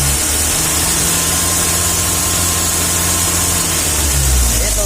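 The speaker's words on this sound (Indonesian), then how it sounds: "Jadi ngefur itu meskipun mentok, suara mesin halus, boleh aja" A Mitsubishi L300 pickup's diesel engine runs loud and steady nearby, a continuous low rumble with a slight lift in revs toward the end.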